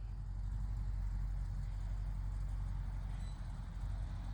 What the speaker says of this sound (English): He can handle that truck like nothing.